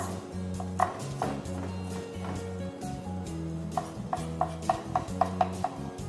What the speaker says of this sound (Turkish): şöyle ince şeritler halinde doğruyorum